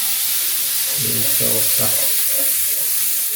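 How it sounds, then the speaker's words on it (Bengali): Cauliflower frying in a pan for vegetable noodles, with a steady loud sizzle filling the clip and a voice speaking briefly over it. "এই যে ফুলকপি ভাজি করা হচ্ছে, ফ্রাই ফ্রাই"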